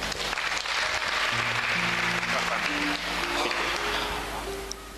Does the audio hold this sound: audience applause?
yes